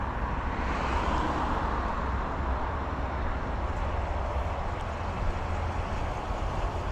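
A 2026 Ram 1500 with a V8 Hemi engine cruising at night, heard from inside as a steady low engine drone blended with road and tire rumble, constant and even throughout.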